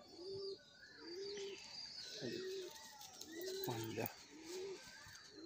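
Kotashi pigeons coo in a steady series of low, repeated calls, each a short throaty phrase, close by and fairly loud, with faint chirps and a soft murmur of voices in the background.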